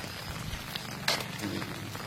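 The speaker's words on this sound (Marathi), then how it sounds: "आमच्या गुगळी धामाला रात्री पहाटे 1 वाजल्यापासून पाऊस चालू आहे" Steady rain falls overnight in a village in Parbhani district, a soft continuous patter with a brief brighter splash partway through and no voices.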